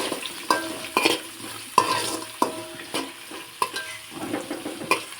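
Green chillies and onion stir-fried for North Karnataka churumuri, a spatula scraping and knocking the pan in irregular strokes over a steady close sizzle, no talking.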